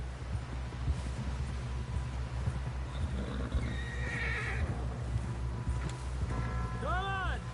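Horse in a video game whinnying near the end, with steady hoofbeats and riding noise throughout, while someone talks over the ride.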